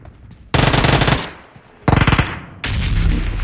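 Rapid automatic gunfire from PUBG Mobile comes in three loud, close bursts separated by brief gaps, with no talking over it.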